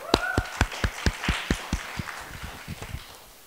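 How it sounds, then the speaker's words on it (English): Audience clapping as esteemed panelists take the stage for a panel discussion on ESG risk management, a short burst of sharp claps thinning out over a few seconds, with no talking. "Can we clap for them?"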